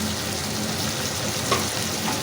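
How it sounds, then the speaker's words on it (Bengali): Chopped onions with turmeric powder and a little salt frying in a pan, a steady close sizzle that holds evenly throughout with one small clink partway. "এবার আমি পেঁয়াজটাকে হালকা লাল করে ভেজে নেব।"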